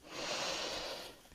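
A single deep inhale through the nose during yoga breathing, close and breathy, rising quickly and held smoothly for about a second before fading.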